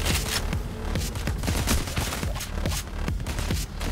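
Dense, continuous gunfire from the video game Payday 4 (Payday series), loud and close, with rapid overlapping shots and no clear pauses.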